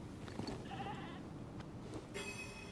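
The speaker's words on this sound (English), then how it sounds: "Cute little sheep." Sheep in a Diablo IV game scene bleat a couple of times over a steady background of ambient game sound, the calls clear and fairly close.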